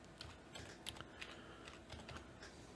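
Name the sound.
typing a password on a computer keyboard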